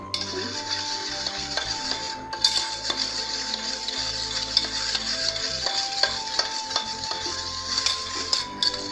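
A baking soda and lemon mixture being stirred steadily in a bowl, with clinking and scraping of a utensil against the container throughout and no talking.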